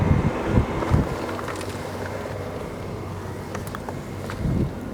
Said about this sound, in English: Wow, it is windy out there, guys.